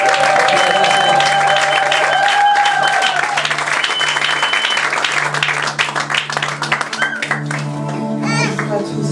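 Church congregation applauding and cheering as Sister Aurélie is called forward, loud continuous clapping with voices and music underneath throughout.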